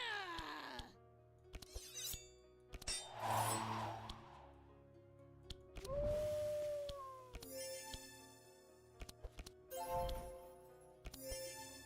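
A howl sound effect from the video game Across the Obelisk, mixed with other game effects: swelling, wavering cries, whooshes and tonal sweeps that follow one another at moderate volume.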